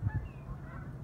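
A man imitates an owl call with his mouth, giving a short, low hooting honk close by, with a second quick hoot right after.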